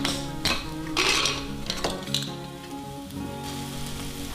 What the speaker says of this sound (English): I'll add all dry masalas gradually and let the gravy cook till oil